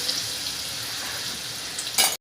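Ginger-garlic-chili paste dropped into a hot pan for dhaba-style chole sizzles with a steady hiss, flaring into a brief louder crackle just before cutting off.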